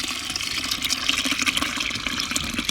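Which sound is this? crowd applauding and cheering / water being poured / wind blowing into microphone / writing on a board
water being poured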